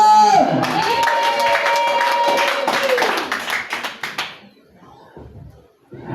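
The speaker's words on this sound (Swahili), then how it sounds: "Piga makofi" A church congregation claps hands together for a few seconds over a sustained musical chord, then the clapping thins out and fades to near silence.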